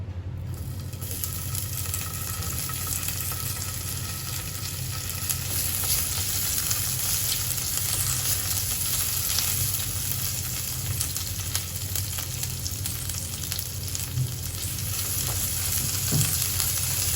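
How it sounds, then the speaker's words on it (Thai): Red curry paste stir-fried in hot oil in a wok, for pork with fresh bamboo shoots: a loud, continuous close sizzle with faint scraping of stirring, no talk. "เราจะผัดพริกแกงให้เขาหอมเลยนะคะแล้วค่อยใส่หมู"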